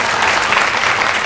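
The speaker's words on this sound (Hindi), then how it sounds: "चलिए आप लोग अपने लिए एक बार जोरदार ताली बजाइए।" An audience at a film master class breaks into loud, dense applause, a continuous wash of many hands clapping with no talk over it.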